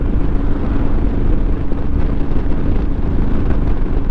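A Royal Enfield Himalayan motorcycle climbing a hill in top gear at about 40 mph and 3,000 rpm, giving a steady, loud low engine drone mixed with heavy wind rush and no break.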